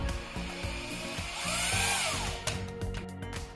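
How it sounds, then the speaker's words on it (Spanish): A power drill fitted with a 3/8 socket drives screws into a TV wall mount, its motor whining in short bursts that rise and fall in pitch, close and fairly loud. "vamos a usar el taladro con el dado de 3/8"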